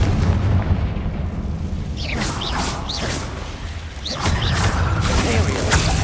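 Confringo blasting spells going off in Hogwarts Legacy, a series of booming bursts with crackling fiery tails under a steady rumbling battle bed, mixed with a shouted spell incantation.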